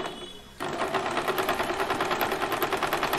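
A sewing machine stitches cotton frock fabric in a steady, rapid mechanical rattle that starts abruptly after a brief quiet moment and then runs evenly and close by, with no talking.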